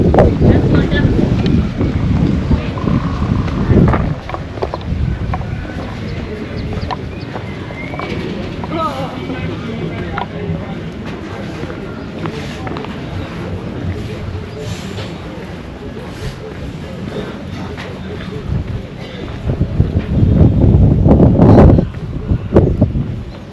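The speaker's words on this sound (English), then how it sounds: "it's windy out here today. My bad if the wind is affecting the audio." Gusty wind buffets the microphone outdoors on a roadside in Abuko, The Gambia, rumbling in uneven loud bursts, strongest at the start and near the end, with faint background sounds beneath.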